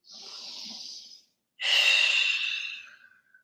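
Two long, breathy exhales during a yoga flow are heard close up. The first is softer and the second is a louder, fuller sigh that fades out slowly.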